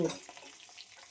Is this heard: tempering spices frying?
yes